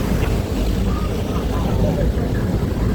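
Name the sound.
river boat on the Chao Phraya River, Bangkok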